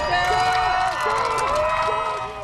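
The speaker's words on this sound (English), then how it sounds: "The crowd cheered as Atlantis cleared its last hurdle before launch" A large crowd at the Kennedy Space Center cheers and shouts loudly and continuously for Space Shuttle Atlantis's final launch, with a narrator's voice over the cheering.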